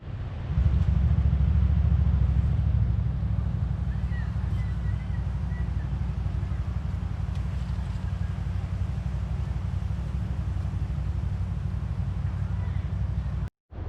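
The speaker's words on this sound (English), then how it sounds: "So the ATVs are riding on these trails all around us." Steady loud engine drone from ATVs riding on wilderness trails nearby in Florida, a continuous low rumble with wind buffeting, holding through the whole stretch before cutting off abruptly at the end.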